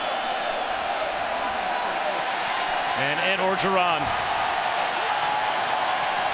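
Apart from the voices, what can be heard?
football stadium crowd cheering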